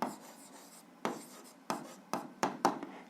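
Handwriting on paper during an algebra exercise: a string of short scratchy pen strokes, some sharper taps and scribbles in irregular bursts, close and fairly quiet with no talking.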